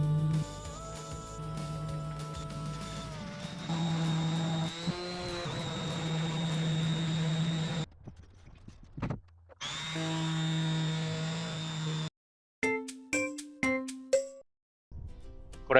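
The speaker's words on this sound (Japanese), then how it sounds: "240番のサンダーで磨きます。" An electric sander with 240-grit paper polishes sealer-coated wood for a camper bedroom shelf, a steady droning whine that runs continuously, cuts out briefly, resumes, then gives way to a few scattered knocks.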